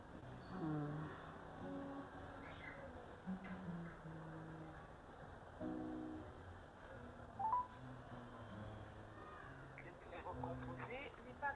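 A phone being dialed to call a friend gives a series of short electronic tones and beeps, fairly quiet, with faint voices in the background.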